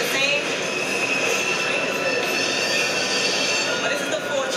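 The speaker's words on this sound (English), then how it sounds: "But this is the 4 train." A New York City subway 4 train rumbles past in the Bronx, a steady loud roar of rail noise with metallic wheel squeal running throughout.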